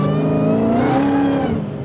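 A 2020 Dodge Challenger Hellcat widebody with stainless catless midpipes revs up and holds a loud, rising engine note, close by and alone, easing off at the end.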